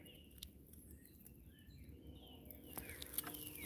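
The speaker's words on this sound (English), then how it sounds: "Still get to enjoy the birds singing." Faint birdsong in the woods: scattered small chirps and short warbling calls drift from a distance over a soft, low outdoor hush, with a few light ticks near the end.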